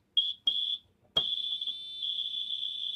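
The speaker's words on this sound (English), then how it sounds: "they're designed to keep on beeping even when the battery voltage is completely flat" A high-pitched smoke detector alarm with a completely flat battery beeps twice briefly, then sounds a long continuous tone, close and fairly loud in a quiet room.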